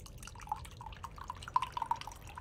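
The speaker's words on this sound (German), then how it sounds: "Ich kipp mir noch meinen letzten Rest Tee ein." The last few drops of tea drip from a pot into a cup, a faint, irregular patter of small plinks over a quiet background, with no one talking.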